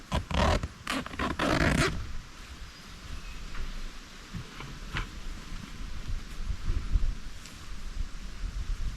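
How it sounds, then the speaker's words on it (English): The zipper on the back door of a New View Hunting ground blind is pulled shut in several quick, loud rasping strokes, followed by quieter rustling and faint wind outdoors. "Maybe I'll zip that up, show you how dark it is."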